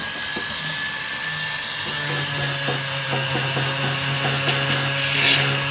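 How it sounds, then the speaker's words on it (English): Whirring rotary bristle brush polishing a jewellery solder joint, a steady motor whine with scratchy brushing texture and small rubbing bursts, close and moderately loud with no talking. "Let me just pop the bristle brush on this one to show you then how quickly we can get this one done."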